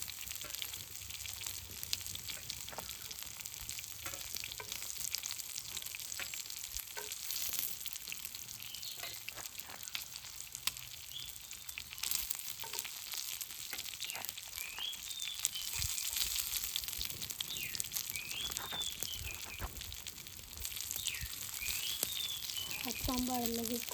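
Village-style chicken kaul fry pieces frying in hot oil, a steady broadband sizzle with scattered crackles and pops throughout, occasional utensil clinks as pieces are lifted out.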